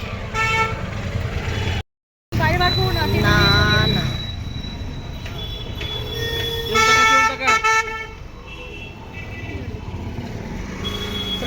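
Car horns honk repeatedly in busy city traffic over a constant roar of engines, some blasts long and close, others shorter. People talk nearby, and there is a brief dropout in the sound.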